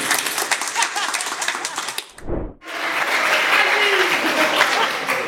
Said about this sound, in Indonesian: Tepuk tangan dulu buat Jiel Nayawan.